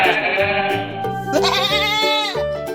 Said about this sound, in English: What is the sound of the goat?